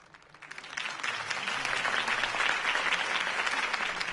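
Applause from a crowd swells up quickly and holds steady, a dense wash of clapping with no voices over it.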